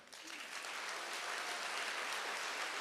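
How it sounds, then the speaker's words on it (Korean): Jazz concert audience in Gimhae applauds a tenor saxophonist as he is introduced, a broad, even wash of clapping that swells slightly and holds steady, heard from within the hall. "명섭 씨 박수의 결이 다른데요"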